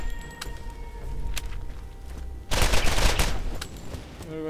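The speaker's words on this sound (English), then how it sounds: "That's a shotgun" Gunfire in the Borderlands video game: sharp, scattered shots give way to a dense, loud volley of blasts halfway through, then a few trailing reports.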